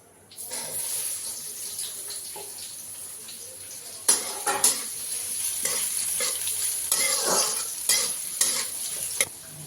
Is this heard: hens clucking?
no